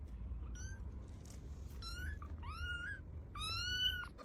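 A pet cat meows several times in short, rising harmonic calls, growing louder toward the end, over steady low household background noise with no talking.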